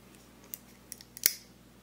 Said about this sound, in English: It's just like clickety clickety, but I mean, it's the mechanic of the knife.